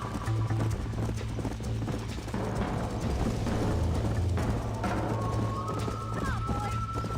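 Horse galloping in the Red Dead Redemption video game, a steady clip-clop of hooves running throughout under a continuous hum of background music and game sound.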